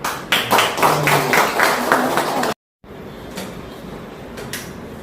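Applause at a retirement ceremony for a family court judge, with dense clapping from a crowd in a hall, loud and continuous at first, then cut by a brief gap before softer, scattered claps.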